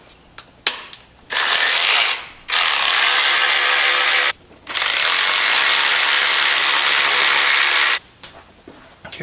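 A ratchet wrench removing bolts, heard as rapid close clicking bursts in three long runs separated by short pauses, with a few single clicks at the start and no talking.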